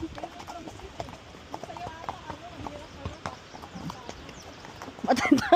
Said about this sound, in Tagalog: Ngayon napapatakbo ko na yung kabayo